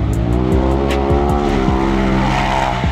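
Loud, close engine of a turbocharged off-road side-by-side, Can-Am X3 or Polaris RS1, driving a dirt track at Durhamtown, holding a steady high drone with rhythmic rev dips and gear-like pulses throughout, no voices.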